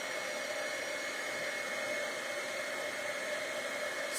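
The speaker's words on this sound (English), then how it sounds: "And we're gonna turn on the heat emboss again." A heat embossing tool blows hot air in a steady, close, even whoosh for several seconds, working on a simple handmade card set on a foam mat. Nobody speaks.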